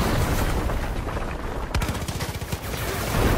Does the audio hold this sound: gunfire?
yes